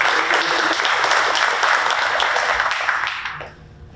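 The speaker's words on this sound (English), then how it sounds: "Let's give another round of applause and celebrate the wonderful job that our principals have done and are doing this year at their schools." Audience applause for high school principals at a school district committee meeting, a dense steady round of clapping that holds for several seconds, then fades out near the end.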